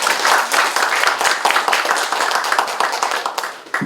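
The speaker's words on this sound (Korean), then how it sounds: "박수 크게 부탁드리겠습니다" An audience at an anniversary ceremony breaks into loud, dense applause, many hands clapping close together, then tapering off at the end.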